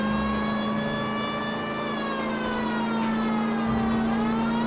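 A police car siren in the video game LA Noire wails with a steady, sustained tone that bends slightly in pitch, sounding close and continuous over a low engine rumble.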